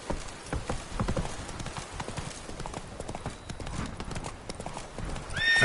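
Roach, Geralt's horse in The Witcher 3: Wild Hunt (Blood and Wine), gallops with steady, loud clip-clop hoofbeats throughout, a brief whinny rising near the end and a voice urging it on.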